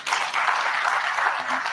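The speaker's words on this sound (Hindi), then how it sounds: "तालियां थोड़ी ठंडी होती जा रही है" Audience applause at a startup and MSME business conclave and awards event, a dense, even wash of clapping that holds steady for under two seconds.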